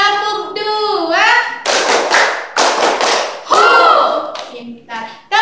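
A primary-school class of children claps out a chant pattern in a classroom, with a few loud, close bursts of clapping between sung and spoken voices calling the rhythm.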